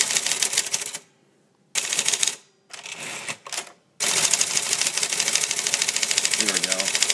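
A manual typewriter is typed fast in rapid clattering bursts of keystrokes, loud and close, broken by short silent pauses before a long unbroken stretch of quick typing.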